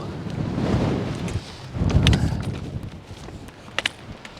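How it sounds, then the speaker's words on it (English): Strong mountain wind gusts buffet the microphone in rumbling surges, swelling and fading over a few seconds, with a couple of brief knocks near the end. "There's just these ferocious down gusts."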